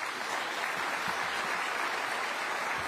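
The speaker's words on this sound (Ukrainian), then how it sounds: "Оплески." Steady applause from a large crowd fills the space, dense and even clapping with no break throughout.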